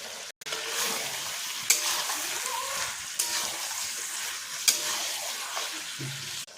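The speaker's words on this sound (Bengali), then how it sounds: "চিকেনটা এখন 10 মিনিট কষে নেব।" Chicken frying in a pan with chili powder, stirred throughout: a steady broadband sizzle with scraping, plus three sharp spoon clinks at regular intervals, close and moderately loud, with no talking.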